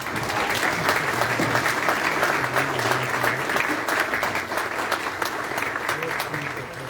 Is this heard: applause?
yes